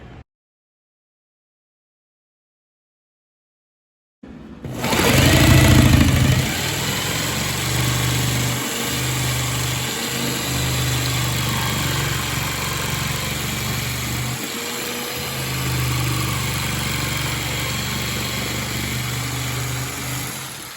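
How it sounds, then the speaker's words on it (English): A steady, loud power tool whines continuously after a few seconds of silence, drilling and cutting out a hole, with a couple of brief dips as it bites through material. "just finished drilling and cutting."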